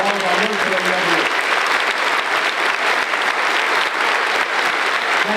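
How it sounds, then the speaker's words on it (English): A large audience gives a sustained, loud round of applause for military members at a tribute event, with a voice briefly heard under the clapping at the start. "let's have one more big round of applause for all of our military members"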